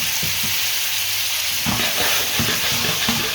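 Wine poured into a hot pan of mushrooms being caramelised in teriyaki sauce bursts into a loud, close, hissing sizzle that keeps crackling steadily, with no voices.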